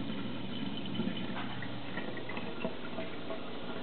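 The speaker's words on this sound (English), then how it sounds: "You can probably hear the pump running." A pump pushes water out of a bucket in a steady, muffled rush with a low mechanical hum underneath, continuous and close, with faint gurgles and ticks.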